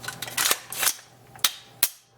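The trigger group of a disassembled AR-15 lower receiver is dry-fired and reset, giving several sharp metallic clicks and snaps at close range with short gaps between them and no speech.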